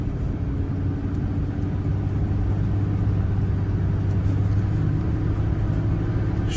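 A 2002 Ford F-150 SuperCab Flareside XLT pickup with a six-cylinder engine cruises through city streets. Its engine and road rumble hold a steady, even drone throughout, with no talking.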